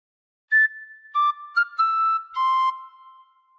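A bright, clear tin whistle plays a short melody of a few notes, some brief and some held, alone against silence.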